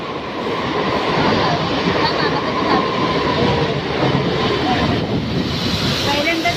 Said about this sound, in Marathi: गेली ट्रेन